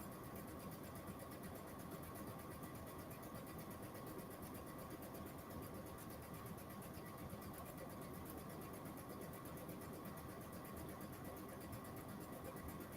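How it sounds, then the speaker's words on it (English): A sewing machine runs steadily, stitching the casing around a drawstring bag at a constant, even hum. It is moderately quiet, with no break and no talking. "we're trying to sew that consistently all the way around"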